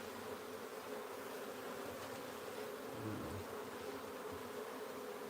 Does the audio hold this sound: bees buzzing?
yes